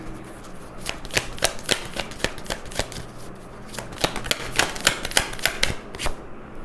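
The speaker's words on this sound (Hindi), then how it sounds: "तो मैं पहले कार्ड्स निकाल लेती हूँ" Tarot cards being drawn and shuffled during a Hindi tarot reading, a close run of crisp flicking and riffling snaps repeating irregularly through the whole stretch, with no talking.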